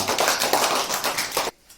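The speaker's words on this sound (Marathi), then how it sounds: "टाळ्या वाजवा" A group of primary-school children in a classroom clap their hands together in a short burst of quick, uneven slaps that stops abruptly, leaving near silence.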